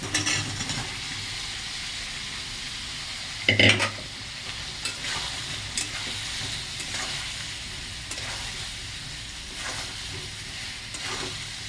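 Potatoes frying in hot oil with Kashmiri red chilli and spices, stirred in the pan: a continuous loud sizzle with a few sharper scrapes and knocks of the spoon spaced through it.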